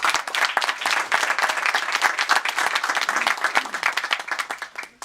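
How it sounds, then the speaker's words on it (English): An audience at a stress-management workshop gives a round of applause, dense continuous clapping from many hands, loud and sustained throughout before tapering slightly at the end. "give them a round of applause"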